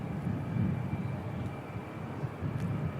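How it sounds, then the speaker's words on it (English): A Boeing C-17A military transport aircraft approaches Christchurch Airport, its jet engines a faint, distant, steady low rumble. "Incoming C-17A"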